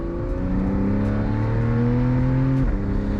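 A 2014 Porsche Carrera S engine pulls hard through a smooth, rising acceleration from second gear, its deep exhaust note climbing steadily before a quick PDK shift near the end.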